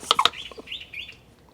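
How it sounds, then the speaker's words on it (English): A bird chirps loudly outdoors, close by, in a quick burst of sharp bright calls followed by softer trailing twitters that fade within about a second. "Dang, that bird's loud."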